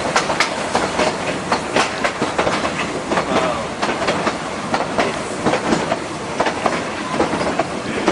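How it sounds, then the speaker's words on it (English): Locomotive-hauled train rolling steadily along rails on a long, gentle mountain descent, with a continuous, loud clickety-clack of wheels over rail joints, close by and alone. "One locomotive could take 70 cars down this side."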